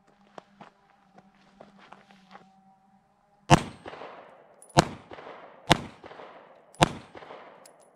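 Smith & Wesson CSX pistol fired at an outdoor range: four loud, sharp shots about a second apart, each ringing out into a short decay, after quieter handling clicks and taps.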